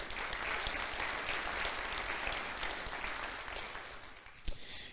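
Church congregation applauding during a sermon, a faint, distant and steady wash of clapping that holds evenly throughout, with one brief sharp knock near the end.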